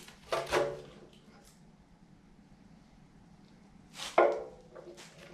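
A damaged heat shield being ripped off a Chevy 5.7 L31 Vortec engine during teardown: two short, sharp tearing and scraping bursts a few seconds apart, close by, with quiet workshop background between them.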